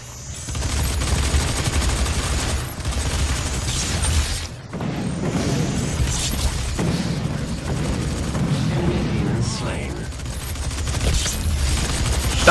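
Rapid gunfire and mechanical weapon sounds from the video game Doom, dense bursts and booms layered with clanking machinery, loud and continuous with no talking.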